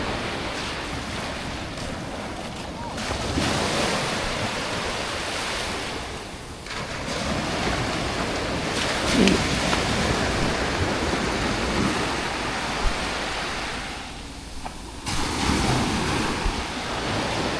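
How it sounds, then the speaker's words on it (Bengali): Sea waves roar at night on an empty beach at Port Dickson, a continuous loud surf wash with surges and brief lulls, roughened by wind buffeting the microphone, with no voices. "জনমানবহীন সমুদ্র কিন্তু সমুদ্রের গর্জনটা স্পষ্ট এক অদ্ভুত অনুভূতি"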